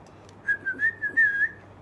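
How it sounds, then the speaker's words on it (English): A single person whistles a wavering, sliding tune for about a second, clear and fairly close, with quiet background before and after. "stop whistling."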